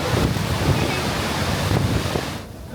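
Niagara Falls water roars constantly in the tunnels beneath the falls, a loud, steady wash of noise with wind buffeting.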